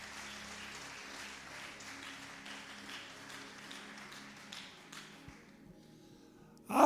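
A church congregation applauds for Jesus with a dense, sustained wash of clapping that carries for about five seconds and then fades away into quiet.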